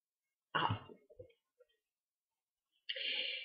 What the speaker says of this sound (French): je tousse encore un petit peu